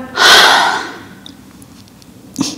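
A single loud, forceful breath pushed out through the mouth during a beginner yoga class, a breathy whoosh that tapers away, followed by a short quieter breath near the end.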